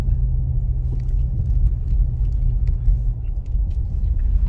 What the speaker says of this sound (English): I used to be so scared of driving in the snow